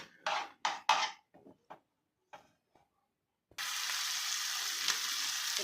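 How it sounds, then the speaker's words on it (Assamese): Finely chopped tomatoes are tipped into a kadai with a few sharp clatters and taps, then a loud, steady sizzle of frying takes over and continues close up. "এইখিনি এতিয়া কেৰাহীত ঢালি দিছোঁ। তাৰপৰা ইয়াক ভাজিব লাগিব অলপ টাইম।"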